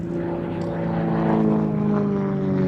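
A steel tube fuselage aerobatic propeller plane with a carbon composite wing flies at an air festival, its engine a steady, fairly loud droning hum with a slowly shifting pitch.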